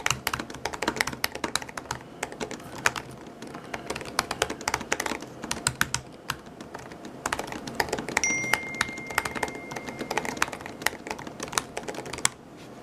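Someone types rapidly on a 2016 MacBook Pro keyboard, producing dense, crisp clicking keystrokes in quick irregular bursts, close and fairly loud, with occasional brief pauses and no talking.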